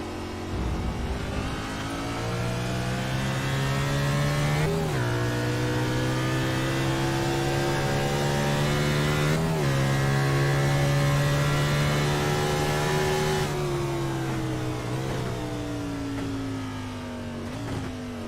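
Race car engine in a sim racing game on the Road America circuit, a continuous loud whine that rises and falls through gear shifts, held close and steady throughout.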